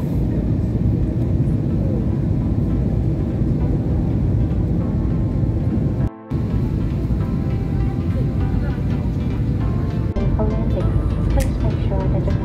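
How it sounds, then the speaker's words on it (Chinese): A passenger airplane turns and approaches the runway to land at Takamatsu Airport in Kagawa, Japan, heard from inside the cabin as a constant loud engine rumble that barely changes, with a brief dropout midway. "飞机经过了回旋转弯后，准备要进入跑道了。"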